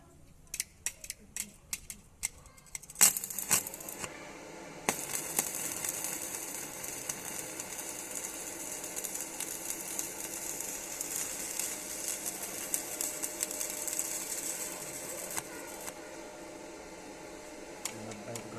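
Arc welding at 90 amps gives a steady, crackling, sizzling hiss that runs for about ten seconds. It is preceded by a series of sharp clicks and heard at moderate distance.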